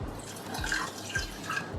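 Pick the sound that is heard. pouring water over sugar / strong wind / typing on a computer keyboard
pouring water over sugar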